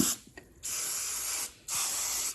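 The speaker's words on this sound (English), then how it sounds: "I'm going to take some Cams spray and just spray everything really," Cam spray from an aerosol can being sprayed onto Ford 351C Cleveland engine parts, heard as two long, loud, close hissing bursts after a couple of short taps.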